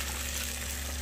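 Garlic with blended tomato and chili sizzling steadily in hot oil, a dense, close frying hiss that holds even and loud throughout with no voices.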